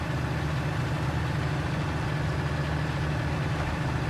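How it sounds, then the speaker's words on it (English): Combine harvester engine idling in Farming Simulator 19, a steady, loud, low droning hum with even texture and no variation throughout, with no talking over it. "Didn't think I was getting far enough away from the combine for the engine to shut off."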